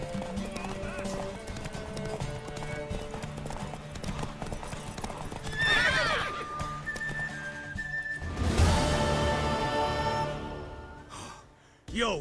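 Horse hooves clip-clopping and a horse whinnying in the video game The Witcher 3, steady hoofbeats under game dialogue with a loud neigh toward the end.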